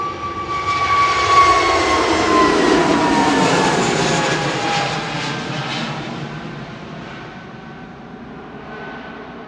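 EasyJet Airbus A320neo jet at Manchester Airport, bound for Munich, a loud close engine roar with a whining tone that swells early, then slowly fades as the aircraft moves away.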